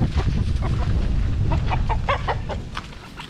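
Chickens, Dekalb Brown hens paired with a rooster, cluck in short repeated bursts against a constant background noise floor.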